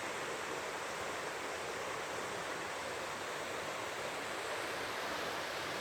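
A river rushes below a forest campsite, a broad, steady roar of flowing water heard from a distance, continuous and unbroken with no voices.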